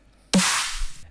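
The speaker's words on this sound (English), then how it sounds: "The second is the snare." A single punchy snare drum sample from a brostep track, saturated and drenched in corridor-style reverb, hits once loudly and its bright noisy tail holds for about three quarters of a second before cutting off.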